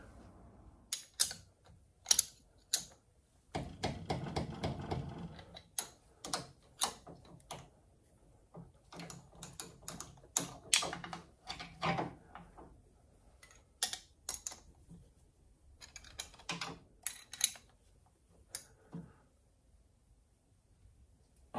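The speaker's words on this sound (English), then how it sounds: "another wrench I'll use to tighten them right down" Wrench tightening bolts on a 1972 VW Super Beetle during rear truss bar and transaxle installation, heard as sharp metallic clicks and clanks in irregular bursts with short ratcheting runs, close and fairly loud against a quiet background.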